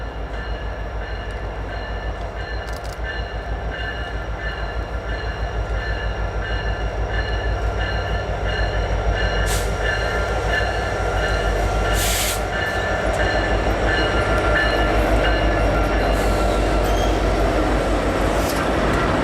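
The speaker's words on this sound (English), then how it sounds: "The last train we saw at Cranford was the NS Intermodal Train 25W." Norfolk Southern intermodal train 25W, a Sunday run of empty intermodal flatcars, rolls past at Cranford on a rainy day, a loud continuous rumble of wheels on rail with occasional sharp squeals, building slightly as it goes.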